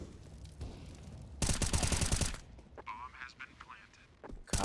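Gunfire in an esports match of a tactical shooter, a headshot taken from back alley: a loud dense burst of shots in the middle, with game sounds and commentary around it.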